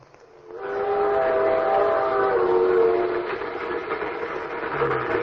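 A steam train whistle blows a sustained multi-tone blast over rumbling rail noise, as a sound effect in an old-time radio drama about ski trains, with the whistle fading into steady rolling train sound.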